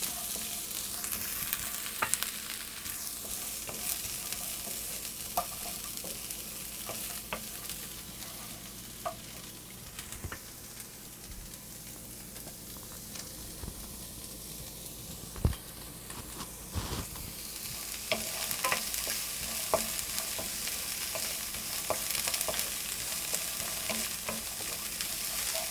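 Carrots sizzle and crackle in hot sesame oil for jerk chicken fried rice, a continuous frying hiss broken by repeated scraping stirs, close up and without talk.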